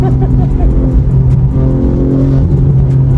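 A 700 HP BMW G80 engine rumbles loudly and close with deep, throbbing revs that swell and settle, with speech mixed in beneath.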